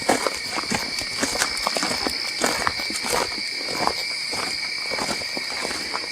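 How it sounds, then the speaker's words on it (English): Footsteps of several people walking outdoors at night under a full moon, a steady irregular crunching close by, with a constant high insect chorus droning behind. "I know our footsteps are loud as heck"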